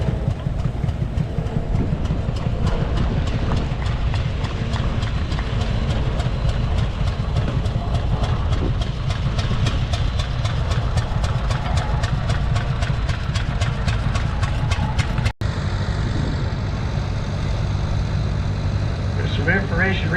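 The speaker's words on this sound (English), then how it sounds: "It's a half scale Rumley 1428 from 1918. Got a McCormick engine in disguise." A half-scale 1918 Rumley 1428 tractor with a McCormick engine runs with a steady, low, chugging idle at a parade, close and loud, with voices talking over it.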